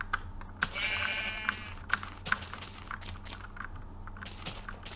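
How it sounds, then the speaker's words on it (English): A black sheep in a survival video game gives a single short bleat over a soft background, surrounded by scattered keyboard and mouse clicks. "Black sheep."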